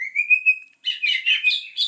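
A small bird chirps while held in the hand for fitting a leg ring. A short whistled note comes first, then a quick run of close, bright chirps after a brief pause.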